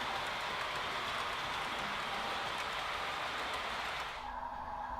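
A model freight train of tank cars rolls past with a steady broad rushing rumble that eases slightly near the end.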